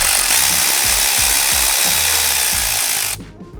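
A socket tool works a nut off a positive battery terminal during a Ford F-150 Raptor fog light install, a steady loud mechanical whirring with rhythmic ratcheting pulses for about three seconds before cutting off.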